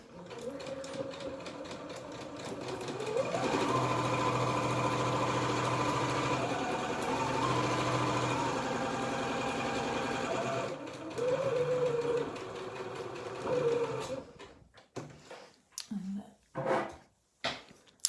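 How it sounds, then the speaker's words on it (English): A sewing machine runs steadily through a seam on a gathered circular cushion, then makes short stop-start bursts as it stitches a few forward and a few backward, with clicks and handling noises near the end. "I'm just going to do my 3 stitches forward and 3 stitches backwards to secure it."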